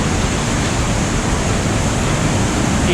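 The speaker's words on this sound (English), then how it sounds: "So this was the main waterfall" Glacier-fed waterfall in the Valley of Flowers, its blue meltwater roaring in a steady, dense, loud rush that fills the whole clip with no voices.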